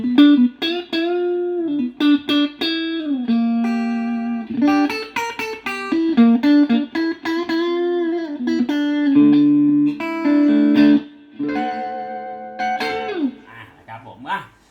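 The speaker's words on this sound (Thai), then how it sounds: "นี่เสียงคลีนนี่คือแบบได้เลย" A clean electric guitar through a Marshall 15R amplifier, single notes and chords ringing out clearly with sustained tones, close and fairly loud, played alone.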